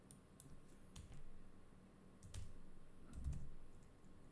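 Keys being tapped on a computer keyboard during a live trading session, a few scattered quiet clicks and short bursts at low level with no one talking.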